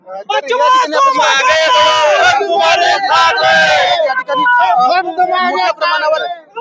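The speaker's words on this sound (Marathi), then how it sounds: "गर्दी सुद्धा जमा झालेली आहे आपण पाहू शकतो माझ्या मागे" A large crowd of protesting shepherds and farmers shouts and chants loudly and close by, the voices rising and falling together in a dense, continuous roar.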